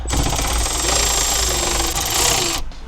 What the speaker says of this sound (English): You can use a regular ratchet or a power one like this.